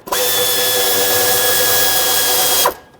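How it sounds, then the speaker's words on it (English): A ratchet with a 10 mm socket spins a bolt on a 2013-2020 Nissan Pathfinder, giving a loud, continuous, close whirring buzz that holds steady for over two seconds and then stops abruptly. "I'm going to stick my ratchet down here with a 10mm socket."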